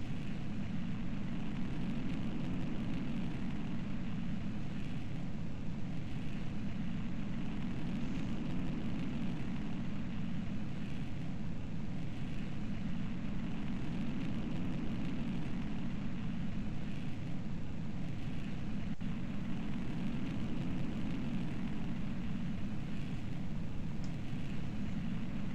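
A rocket engine fires after ignition in Kerbal Space Program with the RP-1 mod, a loud, unbroken roar with a deep rumbling body that holds steady throughout.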